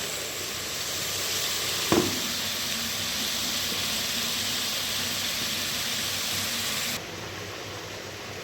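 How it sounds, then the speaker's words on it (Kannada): Onions and tomato sizzle steadily in a hot pan, a broad continuous hiss with a brief clatter near two seconds and a slight drop in level toward the end, no voices. "ನಂತರ ಇದಕ್ಕೆ ಟೊಮೊಟೊ ಹಾಕೊಂಡು ಫ್ರೈ ಮಾಡಿ"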